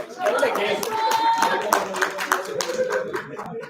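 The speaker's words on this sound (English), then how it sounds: "Round of applause for Joshua, please." Students in an audience clap for a volunteer stepping onto a stage, a brief, loose round of clapping mixed with chatter and voices throughout.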